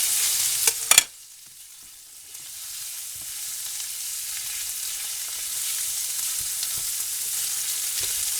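Beef frying in a pan for a green bean stir fry, with a brief clatter as the meat goes in, then a steady soft sizzle that holds alone and close for the rest of the clip.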